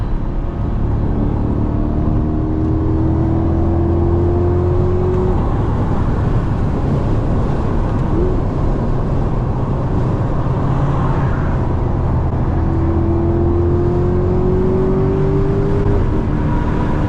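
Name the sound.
Chevrolet C8 Corvette engine revving and accelerating, exhaust note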